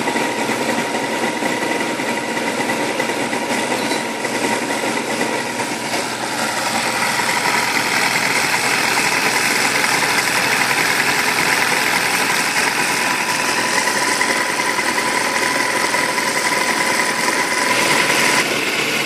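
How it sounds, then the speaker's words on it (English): Benchtop hybrid powertrain rig running at a steady 600 RPM with a load applied, giving a continuous mechanical engine-like drone with whirring vibration throughout, fairly loud and alone without talk. "this is the hybrid powertrain set at a slightly slower RPM of 600 with a load being applied to the system"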